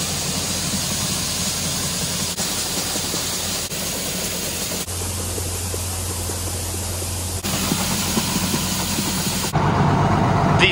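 A Case IH 7110 Magnum tractor engine runs steadily with a loud, continuous broadband drone and low rumble, shifting in tone and intensity a few times as it works near an auger, with no talking.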